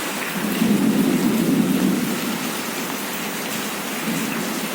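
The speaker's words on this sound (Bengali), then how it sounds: "ঢাকার বুকে বৃষ্টি নেমে এসেছে" Heavy rain pours steadily at midnight in Dhaka, a dense close hiss with a low rumbling undertone, continuous and without voices.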